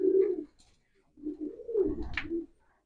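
Racing pigeons coo inside a loft, two soft rolling low calls separated by a short pause, heard close and clear with little else around them.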